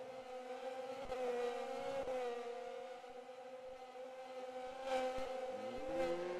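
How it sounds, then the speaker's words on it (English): A race car pulls out of the pit lane in an F1 racing video game, its engine a steady droning whine that holds a constant pitch, then rises and shifts as it accelerates toward the end. "He's going out of the pit lane on a new car."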